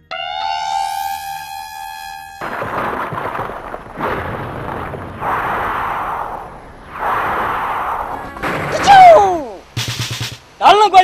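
Gunshots ring out in a Nepali comedy film scene, a series of harsh noisy bursts about a second or more each, following a brief musical tone and mixed with voices near the end.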